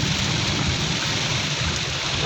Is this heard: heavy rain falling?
yes